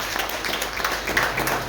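A congregation at a memorial service for Elder Mburu applauds in a dense, steady wash of clapping that fills the whole moment, with no talking over it.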